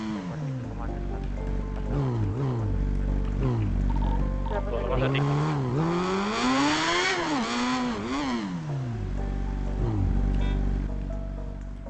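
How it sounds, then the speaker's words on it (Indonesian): Noisy motorcycle engine in a video game, revving up and down in repeated rising and falling sweeps, loud and continuous throughout with people talking over it. "Bapak motornya berisik banget."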